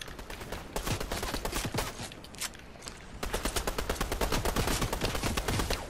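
Rapid bursts of automatic gunfire from the Fortnite video game, dense and continuous with a brief lull before a second sustained volley of sharp, repeated shots.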